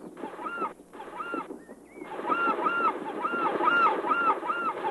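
A group of wild birds with narrow white and broad black neck bands gives raucous honking cries in rapid repeated calls, overlapping and fairly close, over a steady outdoor background.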